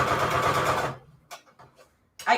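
A sewing machine stitches a zigzag around a paper envelope in a rapid, close mechanical whir that stops after about a second, followed by brief quiet talk.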